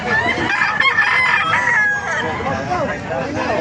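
White Hatch chickens cluck and a rooster crows loudly nearby amid a dense, busy flock in Calumpit, Bulacan, with no pause in the noise.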